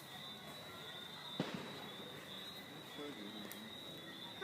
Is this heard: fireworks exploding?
yes